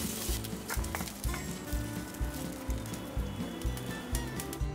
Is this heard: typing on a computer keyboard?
no